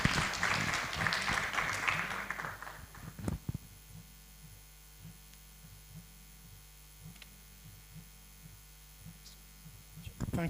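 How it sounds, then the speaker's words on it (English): A conference audience at an economic performance review launch claps for a professor joining the panel, a few seconds of moderate applause that fades into a quiet room with a steady low electrical hum and occasional small knocks. "A round of applause for Professor Fosu."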